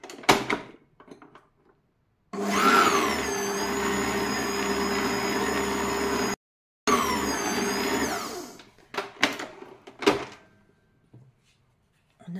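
An electric mixer whirs loud and steady for several seconds, briefly stops, then runs again, beating flour into cookie dough for three-chocolate cookies, with scattered clatter and a few words spoken before and after.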